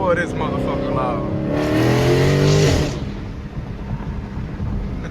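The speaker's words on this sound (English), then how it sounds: "I don't be realizing how loud this car is" A Dodge Charger Scat Pack 392 with a mid-muffler delete accelerates hard at night, its loud V8 exhaust rising in pitch through a gear with a raspy roar before settling into a steady drone.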